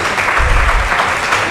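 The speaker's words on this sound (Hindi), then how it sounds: "प्लीज़ ज़ोरदार तालियों से स्वागत कीजिए इनका" An audience at a poetry open mic during the NTA Awards 2024 gives loud, dense applause, many hands clapping steadily and close, with no one speaking over it.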